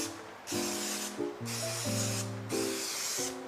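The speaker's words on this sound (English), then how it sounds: "I'm gonna do a little spray." An aerosol cooking spray can hisses in three short bursts onto a waffle maker before chicken waffles are cooked, each spray close and crisp, with a faint tonal hum running beneath.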